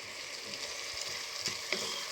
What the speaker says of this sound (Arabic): نخليه يتقلى